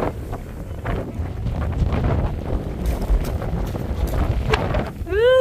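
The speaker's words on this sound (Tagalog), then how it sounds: "Super lakas ng hangin!" Strong wind buffets the microphone beside a river at a picnic spot, a continuous loud low rumble with gusting surges, and a faint chirping call near the end.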